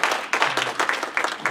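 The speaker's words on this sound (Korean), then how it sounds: "우리 박수로 환영합니다" A church congregation at a Sunday service in a Las Vegas Presbyterian church claps briefly to welcome guests at a baptism, giving a short, fairly loud patter of hand claps.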